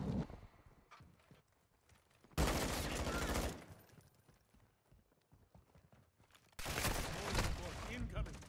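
Gunfire in a Call of Duty battle hits in two loud dense bursts separated by a quieter stretch of scattered clatter, with voices calling out in between.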